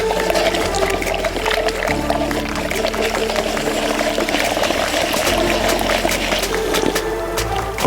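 Water being poured into a binder mix made for sprayed rice-straw and cork insulation, a steady, close, continuous pouring and splashing of one litre of water that runs unbroken throughout, with no talk over it.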